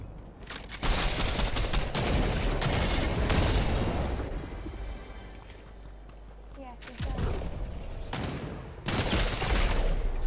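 Loud, dense gunfire and blasts from the video game Fortnite, heavy bursts nearly continuous with brief lulls, while a player's voice talks over the action.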